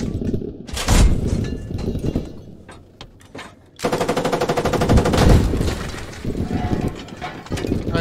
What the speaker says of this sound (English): Whoever's shooting at us sucks.